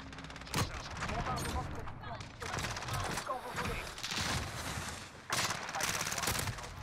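In Modern Warfare, a weapon fires repeatedly, with rapid bursts and sharp shots sounding loud and close across the stretch and only short gaps between.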